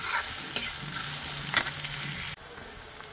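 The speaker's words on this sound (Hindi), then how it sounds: "प्याज को भी थोड़ा सा गोल्डन फ्राई कर लेंगे।" Onions frying with cumin seeds in a pan until golden, a continuous bright sizzle broken by two sharp spoon knocks, then a sudden drop to quieter hissing near the end.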